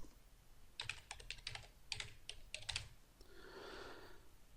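A computer keyboard is used to type a username: several quick bursts of crisp, close key clicks with short pauses between them, then a softer hiss as the typing stops.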